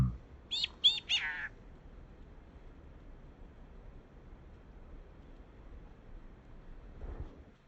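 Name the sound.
chickadee calling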